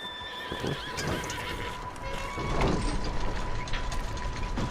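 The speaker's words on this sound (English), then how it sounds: "you're gonna get your first horse" Horse in the video game Red Dead Redemption 2, a whinny with hoof clip-clop and mechanical clicking sounds, fairly quiet and steady with no speech.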